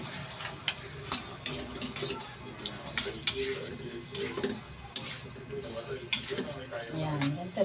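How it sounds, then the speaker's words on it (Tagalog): Pork being stirred in a cooking pan, with soft scraping and sizzling plus scattered sharp clicks of a utensil against the pan at an irregular rhythm, close and fairly quiet, with faint talk underneath. "Ayan, halo-haloin lang natin."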